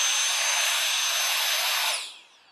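An Easywox handheld blower clears a driveway with a loud, steady high-pitched whoosh that runs unbroken for about two seconds, then winds down and fades.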